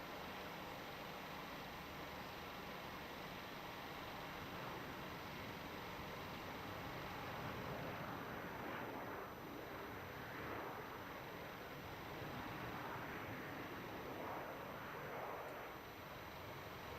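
Qantas 37 airliner lining up on runway 34 at Melbourne Airport, a steady broad jet-engine roar that swells slightly midway, held at moderate distance without talk.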